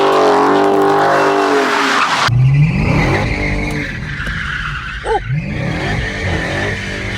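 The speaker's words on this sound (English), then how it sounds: "This thing is gonna spin tires." A Dodge Hellcat spins its tires with a loud, close engine roar and a sustained tire squeal, the revving pitch shifting partway through as the wheels keep breaking loose.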